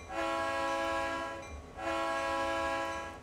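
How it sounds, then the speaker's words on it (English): Train Sim World 2's GP38-2 locomotive sounds two long, loud horn blasts, each a steady chord of several tones separated by a short pause, heard clearly over a low idling rumble. "a couple of nice big blasts on the horn"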